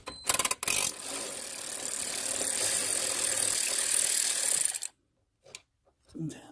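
Loosening radiator fasteners on an Infiniti engine, a continuous fast ratchet whir lasting several seconds after a few sharp clicks, then silence with a brief faint clatter at the end.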